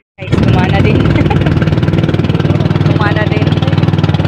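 A boat engine on a night spearfishing trip starts up abruptly after a repair and runs loud and steady with a rapid, even chugging pulse, close by, with voices faintly mixed in.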